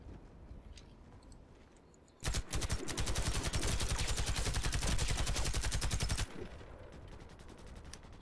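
Rapid automatic gunfire in the video game Warface, a loud close continuous burst of evenly spaced shots lasting about four seconds, with quieter game ambience before and after.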